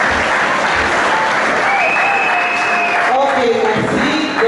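Sustained applause and cheering from an audience at a gospel concert, steady and loud throughout, with a voice speaking over the clapping toward the end.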